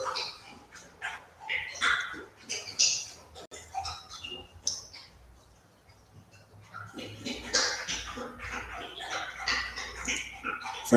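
A dog barks and yips in short scattered bursts, fairly close, mixed with whimpers and some people talking around it.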